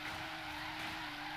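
Tires squeal in a steady, loud screech as a Toyota Supra with the 2J engine drifts in Forza Horizon 3, with engine roar underneath and no voices.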